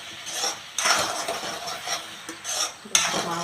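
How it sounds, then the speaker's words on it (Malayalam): A spoon stirs semiya vegetable upma in a pan up close, repeated scraping and clinking strokes against the metal with a faint sizzle between them. "അപ്പോൾ നമുക്ക് ഇനി ഒന്ന് ഇളക്കി നോക്കാം."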